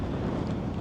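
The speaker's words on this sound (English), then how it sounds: "It's a horrible day again, but it's mornings and it's mega windy." Strong wind buffeting the microphone on a very windy morning near the coast, a loud, constant low roar and rumble with no break.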